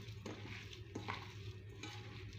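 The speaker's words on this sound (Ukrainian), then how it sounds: "І я це все перемішаю." Stuffing of turkey, rice, egg and parsley is mixed in a bowl. Soft scraping strokes come quietly and close, a few at a time.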